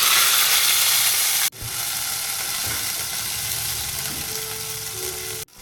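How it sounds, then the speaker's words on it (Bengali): Ground spice paste dropped into hot oil in a kadai with hing, cumin and dried chilli sets off a loud, steady sizzle after an abrupt start, with faint stirring scrapes beneath it. "তারপরে দেব ওই বাটা মশলাটা।"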